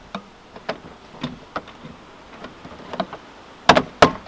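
A series of sharp plastic clicks and pops, scattered irregularly, ending with two louder snapping cracks close up as clips release while an old, worn door card is prised off a BMW E36 Coupe.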